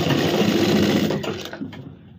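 A sewing machine stitching the neckline of a suit runs in a steady, close whirring hum for about two seconds, then slows and stops.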